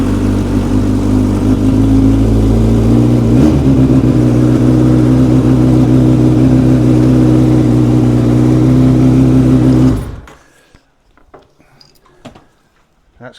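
A car engine runs loud and close with a steady, strong drone after a throttle repair, then cuts out abruptly near the end, leaving faint clicks and quiet.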